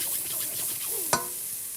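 Chopped onion and garlic are stirred around in a hot pan, making a soft, quiet sizzle with faint scraping and one sharp clink of a utensil midway.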